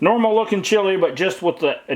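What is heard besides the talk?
None of the usual background noises is heard.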